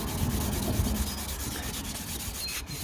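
Fine 2000-grit sandpaper rubbing steadily on a BMW 525i M Sport E60 exhaust tip caked with baked-on road grime, a close, continuous scratchy scrubbing with rapid back-and-forth strokes.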